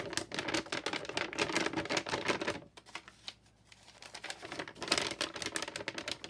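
Thick coffee-dyed printed paper for junk journals rustles and crinkles as it is handled, a steady dry crackle with a short quieter pause in the middle.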